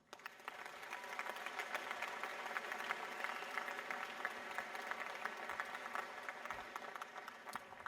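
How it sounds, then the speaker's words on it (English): Graduates at a university spring convocation applaud themselves, a sustained, even wash of crowd clapping from a large hall, fairly distant and soft. "Give yourself and your fellow classmates a well-deserved round of applause."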